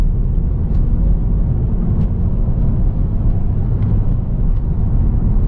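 Honda Civic taking corners on the road, heard from inside as a loud, steady low rumble of engine and road noise that holds without a break.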